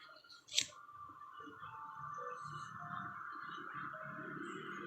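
Scissors give a single sharp snip while trimming macrame cord for a bracelet. It is quiet and close, followed by soft handling noise.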